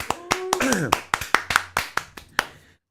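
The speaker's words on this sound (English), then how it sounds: "Clap, clap, clap, clap." Hands clap about a dozen times in a fast, slightly uneven rhythm, sharp and close, while a voice speaks briefly over the first claps.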